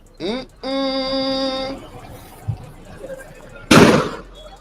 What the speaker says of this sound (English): you can hear the gunfire from where I am